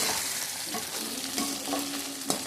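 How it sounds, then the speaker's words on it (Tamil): Taro pieces (chepankizhangu) sautéing in hot oil give a dense, continuous close sizzle, with light stirring scrapes and no one speaking. "இந்த எண்ணெயிலே கொஞ்சம் நம்ம அப்படி வதக்கி விட்டோம்னா"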